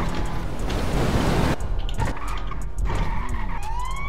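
A Formula 1 car skids in the GTA RP video game, a loud broadband tire scrape through the first second and a half, then engine and tire noise with rising whines.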